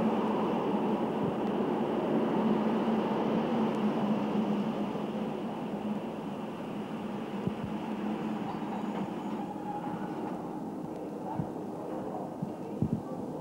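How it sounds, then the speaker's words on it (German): The Rheingold express train rumbles steadily as it approaches Utrecht, a continuous rolling hum of wheels and carriage noise heard from on board, fading slightly toward the end. "Schon nähert sich unser Zug Utrecht"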